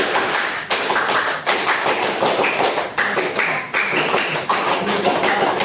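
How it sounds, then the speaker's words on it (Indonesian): A school class performs the scout clapping rhythm (tepuk pramuka), loud group claps and taps in repeated patterned bursts separated by short gaps. "Tepuk pramuka."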